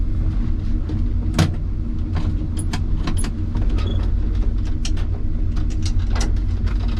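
A 1979 Ford F-350 truck engine idles steadily with a low, even rumble, punctuated by occasional small clicks and taps nearby.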